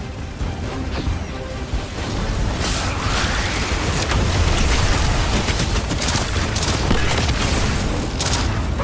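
Bomb explosions in the video game Destiny 2 rumble as a dense, continuous wash of booming blasts and crackling debris, loud and sustained with no pauses.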